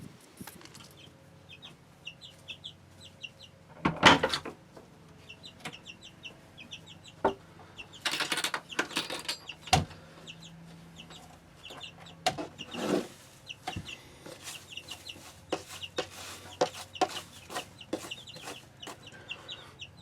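Chickens at a coop cluck and chatter in short, repeated bursts at a moderate distance, mixed with occasional knocks and rustling from nearby handling.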